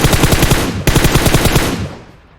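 Sustained loud automatic gunfire in PUBG Mobile, a rapid rhythmic burst of shots close by that stops abruptly and then trails off into a fading echo, with no voices.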